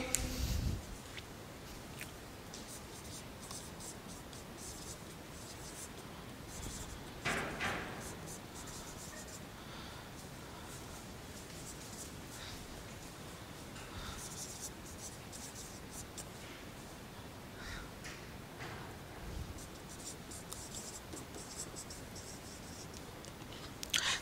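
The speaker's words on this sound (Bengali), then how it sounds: "যেমন একটা উদাহরণ লিখি" Chalk or marker writing on a classroom board during an English lesson, a steady faint scratching and rubbing with a few sharper taps, continuing for a long stretch with no talk.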